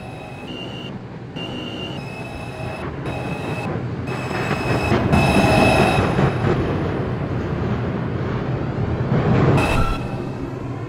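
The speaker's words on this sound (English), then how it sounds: "there is a train approaching the station" R142 subway train approaching a station platform, a loud rising rumble with metallic squeals and rattling building toward a peak near the end, heard alone with no talk.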